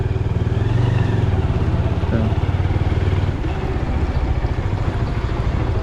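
Motorcycle engine droning steadily up close as the bike rides over a damaged road, with a rhythmic pulsing throb and rattling clatter from the rough surface, no talk.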